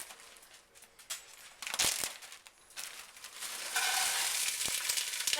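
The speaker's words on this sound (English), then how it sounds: "So we're going to get this sauteed up," Cajun trinity vegetables sautéing in olive oil in a pot, a steady close sizzle with bursts of crackling and stirring that swell louder toward the end, no talking.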